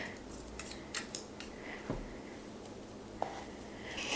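Opening the packaging of a Genius Garden Tarot deck makes faint, close crinkles, snips and small clicks in a quiet room. The sounds come irregularly, with no talking.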